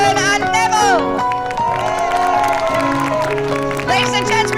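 A medieval jousting show crowd gives a loud, sustained cheer and applause for the knights, with shouts and music-like tones layered over the clapping and a voice carrying through the noise.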